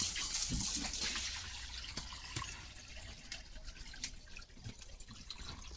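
A pet dog named Leo splashes and plays in water from a tap outdoors in the morning: a steady trickle and patter of running water, louder at first and then settling, broken by a few drips and small splashes.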